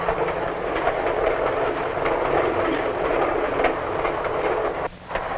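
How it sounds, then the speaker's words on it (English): Santa Fe Super Chief passenger train speeds along the rails with a loud, steady rolling rumble and faint clickety-clack, the roar briefly dipping near the end. "While the train speeds into the dusk"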